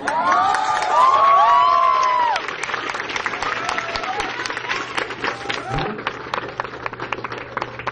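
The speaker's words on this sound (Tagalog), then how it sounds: "Palakpak kayo dyan." A group at a training session claps and cheers, with excited shouting voices over scattered clapping, loud at first and then settling into looser applause with people talking.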